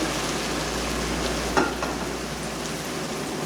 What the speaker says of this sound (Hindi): बस अब मैं इसको इस तरीके से मैं इसको भूनती रहूँगी